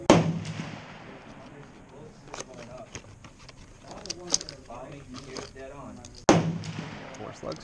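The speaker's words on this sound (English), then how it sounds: "Today I'm going to shoot slugs out of a full choke Winchester 1897." Two loud 12 gauge slug shots from a full choke Winchester 1897 shotgun, one at the start and one near the end, with quieter outdoor handling sounds and talk in between.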